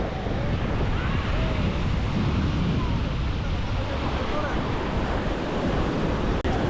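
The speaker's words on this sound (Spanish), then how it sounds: "El mar movido" Rough ocean surf at a beach in Playa del Carmen, Mexico, roars steadily and loudly without pause, with gusty wind buffeting the microphone.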